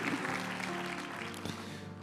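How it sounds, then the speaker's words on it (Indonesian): Church congregation in Surabaya clapping together during a worship service, a dense, steady wash of many hands applauding close by with music-like tones beneath and no clear speech. "Boleh kasih tepuk tangan yang paling dahsyat bagi Tuhan kita."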